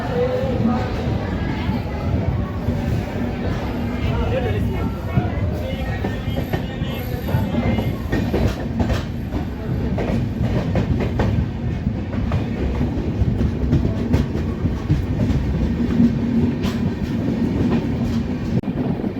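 Marathwada Sampark Kranti Express running between Jalna and Chhatrapati Sambhajinagar, a steady rumble with rhythmic clickety-clack of wheels on rail joints heard from inside, with a voice talking over it throughout.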